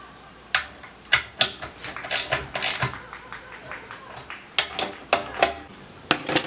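Clicking, ratcheting mechanical sounds as the end of a wood lathe headstock is tightened during an overhaul, a dozen or so sharp metallic taps and clacks in irregular bursts, fairly close, with no talk.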